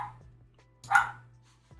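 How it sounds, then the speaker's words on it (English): A dog barking in a backyard, heard indoors as a single sharp bark with a softer one at the end, muffled and somewhat distant over a steady electrical hum. "Sorry if you guys can hear Snowy barking in the backyard"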